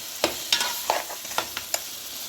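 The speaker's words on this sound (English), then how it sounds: "Now meantime I'll let my meat fry nicely with the spices" Mutton frying with spices in a pot, a steady sizzle up close, broken by six or so sharp scrapes and clanks as the meat is stirred, no voices.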